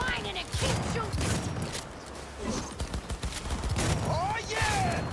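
Video game gunfire crackles in dense bursts and volleys throughout, loud and busy, with a voice talking over the shooting.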